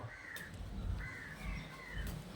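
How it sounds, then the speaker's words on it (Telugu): A few harsh crow caws ring out from some distance, spaced apart over a low outdoor rumble. "అదిగో అయిగో కాకులు రెండు ఎదురుకున్నాయి"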